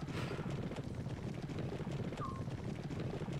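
Horses galloping in a horse race in the video game Killer7, a fast, steady drumming of hooves with a brief whinny-like tone, all faint and distant.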